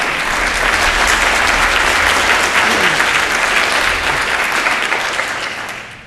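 An audience at a Chicago Python user group lightning talk session applauds for a speaker, a dense wash of clapping that holds steady for several seconds, then begins fading out.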